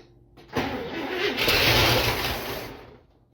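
An International Scout engine being rebuilt cranks and sputters while fuel is fed by hand with no gas line connected, a loud close burst of churning engine noise that builds, holds and then fades out.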